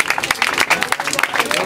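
Crowd clapping and cheering for two freestyle rappers at a rap battle in Tauramena, close and lively with sharp individual claps over a busy background of voices.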